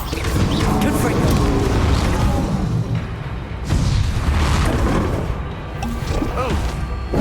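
Fiery spell explosions in Hogwarts Legacy, blasts and crashes bursting repeatedly over dense game noise, with a voice calling out spell names throughout.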